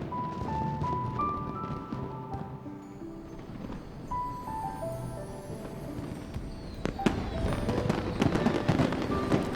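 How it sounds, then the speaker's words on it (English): Fireworks in the video game Genshin Impact crackle and pop steadily over a bright melodic score, with sharper bangs toward the end, all at a moderate distance with no speech. "Aren't you afraid of hitting the lanterns with the fireworks?"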